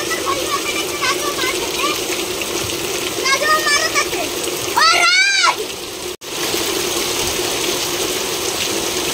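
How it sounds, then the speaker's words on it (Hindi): Steady, dense hiss of heavy rain in a windstorm throughout, with children's voices and playful shouts in the background. "यहाँ पे देखिए बारिश, कितना बारिश हो रहा है।"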